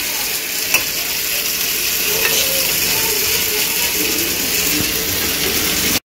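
Egg bhurji fries in a pan with a dense, continuous sizzle, punctuated by occasional scraping stirs and clicks of the utensil against the pan, close and loud with no talking.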